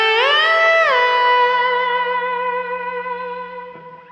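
A single sustained slide-guitar note played without a pinch harmonic, swelling briefly, then gliding down and ringing out steadily with a long, slowly fading tail and a faint pick noise near the end, heard alone.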